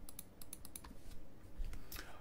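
Quick, quiet clicks of a Razer Taipan mouse's side buttons, a fast run of taps in a cluster followed by a few more spaced clicks, faint and close.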